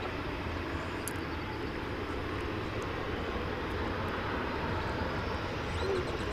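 An American Airlines jet rolls for takeoff from runway 18 left at Dallas Fort Worth airport at daybreak, a steady, broad roaring engine rumble that holds constant throughout, heard from a distance with no talk.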